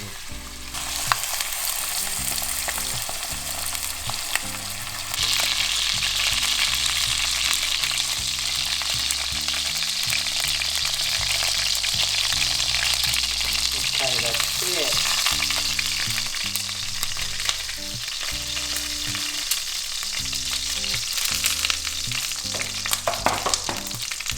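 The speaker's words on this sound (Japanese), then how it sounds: "鶏肉の皮をしっかり炒めましょう。" Chicken skin fries in oil in a pan for an Italian chicken broth with small ravioli, a steady close sizzle that swells louder after the first few seconds, with occasional stirring scrapes and crackles throughout.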